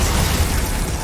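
Glacius ice spell cast in a Harry Potter video game: a dense, loud burst-like roar that sustains evenly for about a second with no pause.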